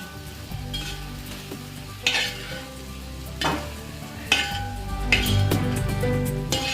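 Grated coconut and cumin for Kerala avial are stirred in a pan, a soft sizzle running under repeated scraping sweeps and light clinks of the spoon against the metal, close up.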